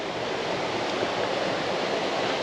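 A waterfall on a hiking trail in the Western Balkans, heard as a steady, dense roar of rushing water that is loud, close and unbroken, with no voices.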